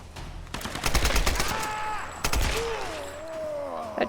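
Rapid gunfire rattles in the Tomb Raider video game, two dense bursts of close, loud shots separated by a short pause, with ringing tonal game effects sliding underneath.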